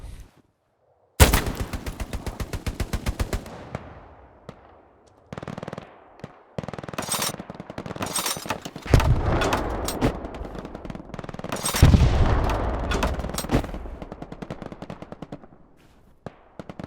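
Machine gun fire in the World War II shooter Hell Let Loose rattles in long rapid bursts separated by short pauses, loud and close, with distant battle noise between volleys.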